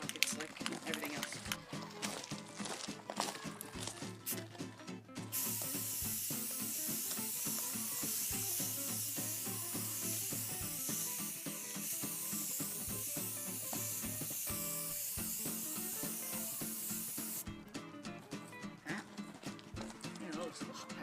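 Spray paint goes onto the coupler pockets of a caboose as a second coat, a loud continuous hiss of about twelve seconds set between stretches of clattering background noise.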